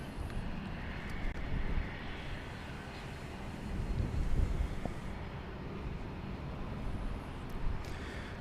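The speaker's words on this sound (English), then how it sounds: "That is Southwest Flight 3112. It's a 737-800." A Southwest Boeing 737-800 jet airliner at Dallas Love Field, heard as a distant, steady jet engine roar mixed with wind across the microphone, swelling slightly and fading without any voices.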